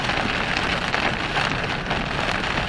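Heavy rain pours down steadily outdoors along a trail, a dense, continuous hiss of drops striking surfaces close by with no letup and no talking.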